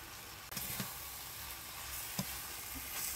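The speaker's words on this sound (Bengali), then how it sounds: "এবার দেখো টমেটো সসটা দিয়ে দিচ্ছি" Tomato sauce hits a hot pan in a village kitchen and sizzles while egg pasta cooks, with a soft steady hiss and a few brief clacks and stirring scrapes.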